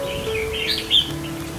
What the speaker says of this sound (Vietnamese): đang cho mấy chú chim con ở trong phòng tập lực anh em ạ